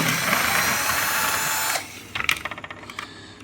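A power screwdriver removes screws from a machine's board with a steady, close, loud whir that cuts off after about two seconds, followed by a run of small metallic clicks and rattles as the parts are handled.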